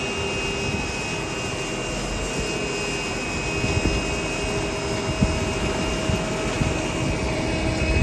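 A Horsch seed drill, pulled slowly with tines and coulter points cutting into a field, gives a steady broadband rumble and scrape under a constant tractor drone, continuous and fairly loud with occasional small knocks.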